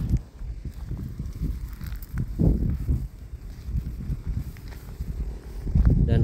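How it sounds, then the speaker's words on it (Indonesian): Strong wind buffets the microphone at a highway construction site at midday, loud low rumbling gusts rising and falling throughout, with an especially heavy blast near the end. "anginnya cukup besar sekali"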